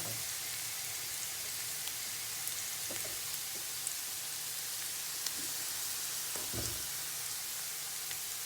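Onions and garlic sizzling in a pan with nettle greens going in, a steady even frying hiss with a few soft clunks and stirring knocks on top.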